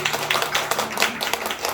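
Scattered clapping from a worship service congregation for a singer, a steady patter of hands at moderate volume with faint voices underneath.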